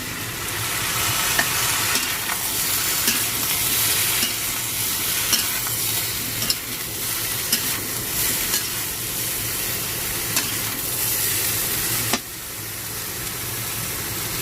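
Pumpkin stir-fried with tofu in a pan for a vegetarian dish, giving a steady loud sizzle with scraping stirs throughout and a brief dip near the end.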